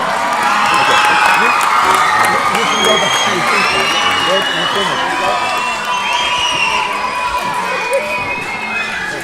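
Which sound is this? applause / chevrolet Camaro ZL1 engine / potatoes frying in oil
applause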